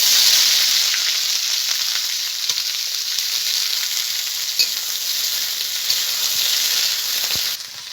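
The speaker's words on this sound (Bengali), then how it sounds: "তেল গরম হয়ে গেছে, আর কচুটাকে ভেজে নিচ্ছি।" Wild taro fries in hot oil, making a loud, continuous close-up sizzle and hiss with occasional soft pops and no talking.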